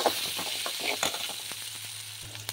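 Green chillies and onions sauté in an oiled pan, giving a steady close sizzle and frying crackle under repeated light stirring scrapes and taps.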